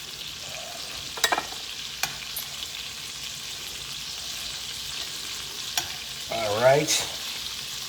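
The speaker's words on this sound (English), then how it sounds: "So we've basically browned our filet medallions." Filet medallions brown in a hot pan for steak Diane, a steady low sizzle with a few clinks of utensils and a short burst of louder frying near the end. A brief spoken word is heard.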